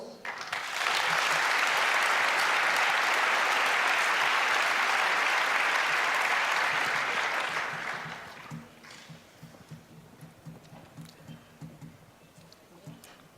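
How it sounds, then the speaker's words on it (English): Audience applause for speakers at a hacker conference talk: a loud, dense burst of crowd clapping lasting several seconds, then fading into quieter room noise with a voice speaking afterward. "So could you please give the 3 speakers here and also Lauri a big round of applause?"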